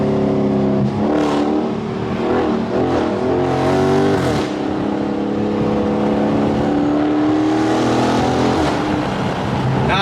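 A car accelerates hard through its gears on a street outside a car meet, engine revving and rising in loud sustained pulls, with short breaks between shifts, heard close and continuous throughout.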